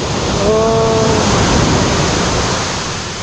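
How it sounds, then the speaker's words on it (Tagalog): Strong ocean waves surge in a steady, loud roar of surf at a swimming spot, with a brief tonal squeal near the start and no talk. "grabe ang lakas ng alon, no?"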